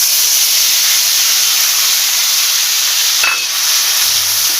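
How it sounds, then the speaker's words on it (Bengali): Ginger garlic paste fries in a pan for a Bengali egg curry, giving a loud, steady sizzle and hiss that runs the whole way through, with a brief scrape of stirring near the end. "আদা রসুনটা ভালোভাবে কষিয়ে নিতে হবে"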